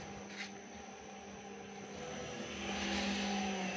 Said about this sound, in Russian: автореверс включили, 15 секунд отработает в одну сторону, перевернет, будет работать в другую сторону 15 секунд